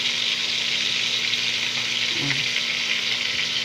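Daing na bangos, dried milkfish, fries in a pan with a steady, even oily sizzle and crackle, constant and moderately close, with a brief soft clink midway.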